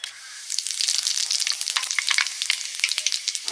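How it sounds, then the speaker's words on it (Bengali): Panch phoron spices hit hot mustard-style oil left from frying fish, crackling and popping densely and rapidly at close range, with no talking. "মাছ ভাজার তেলে আর একটু তেল দিচ্ছি, পাঁচফোড়ন দিয়ে দিচ্ছি গরম তেলে।"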